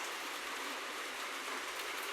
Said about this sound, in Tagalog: Umuulan tapos malamig.